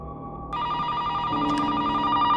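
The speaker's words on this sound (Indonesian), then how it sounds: "Tiba-tiba telepon bunyi lagi." A telephone starts ringing abruptly, a bright continuous electronic tone that holds steady and grows slightly louder, with no voices.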